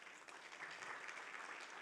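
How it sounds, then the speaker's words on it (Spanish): Church congregation applauding, a steady wash of clapping from many hands that fills the whole moment without pause, fairly distant and even in level. "¿Cuánto le dan un aplauso al Señor por eso?"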